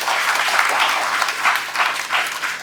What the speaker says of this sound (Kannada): ಆಗ್ಬೋದು ಅಂತ ಹೇಳಿದ್ರೆ ಒಂದು ಚಪ್ಪಾಳೆ ಕೊಡ್ಬೇಕು